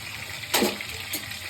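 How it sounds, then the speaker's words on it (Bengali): Boiled water is poured off cooked jackfruit in a short splashing gush, followed by a smaller second splash, close and moderately loud. "এটাকে আমি এখন ঢেলে জলটাকে ফেলে দেবো"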